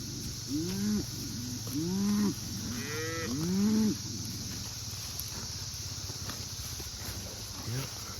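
Several cattle in a herd moo in a row, low drawn-out calls close by, then fade into a steady outdoor pasture hum with insect-like buzzing in the background.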